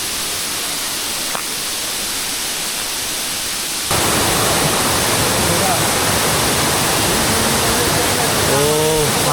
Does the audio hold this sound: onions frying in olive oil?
no